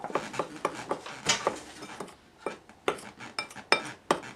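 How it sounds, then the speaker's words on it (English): Flour, baking soda and salt stirred together in a bowl with a utensil, giving a string of close, crisp scraping and clinking strokes in an irregular rhythm, with no voices. "Now, mix this up a little bit. Baking soda, salt, and flour."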